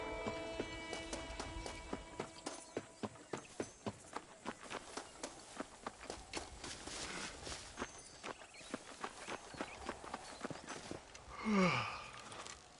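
Horse hooves clip-clopping in the Western video game Red Dead Redemption, a steady rhythmic series of sharp hoof strikes at a walking pace, moderately close, ending with a brief swell of other game noise.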